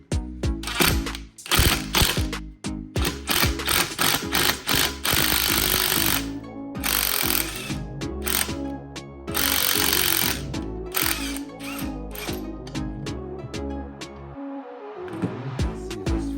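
An impact wrench drives a spreader tool to size a bushing for a Dana 300 transfer case, loud close bursts of rapid hammering rattles repeated in several runs with short pauses.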